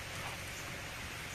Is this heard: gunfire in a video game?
no